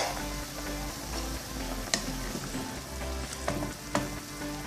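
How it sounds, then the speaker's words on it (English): Meat and onions sizzle steadily in a covered pot, a soft continuous frying hiss with a few sharp clicks or pops, fairly quiet and without voices. "while the meat is cooking with the onions"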